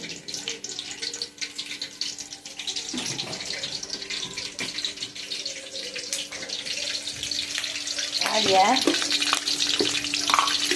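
Garlic tempering sizzles in hot oil for a bottle gourd and drumstick gravy, a moderate hiss with scattered clinks of a utensil, growing louder near the end.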